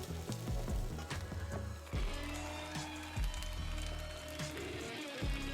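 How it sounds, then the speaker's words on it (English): Potato chunks frying in hot duck fat, a steady close sizzle with crackling bursts and occasional pan clatter throughout. "slide our potatoes into the nice duck fat so they can start frying away"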